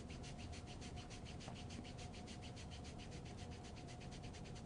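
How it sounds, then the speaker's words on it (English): Steady rubbing over kinesiology tape applied to skin to activate its glue, a continuous close scratchy friction with quick repeated strokes throughout, alone with no talking. "Once applied, rub over top to activate the glue."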